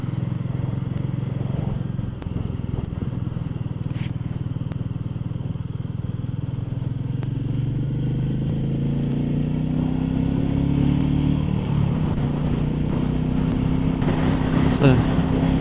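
Royal Enfield Meteor 350cc motorcycle ridden on a sunny winter road near Aylesbury, its mid-pitched engine droning steadily with rising revs and wind rush, a rider talking over it.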